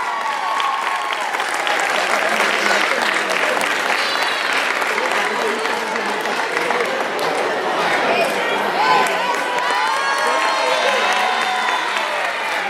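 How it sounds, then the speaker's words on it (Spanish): A crowd at a community event in Orocovis claps and cheers together, a continuous loud wash of applause mixed with shouts and scattered voices throughout. "Un aplauso"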